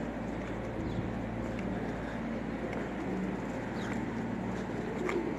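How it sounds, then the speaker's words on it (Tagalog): Soft pigeon coos murmur at an old school building turned museum, beneath a steady wash of outdoor background noise, with no one talking. "Mayroong mga kalapati."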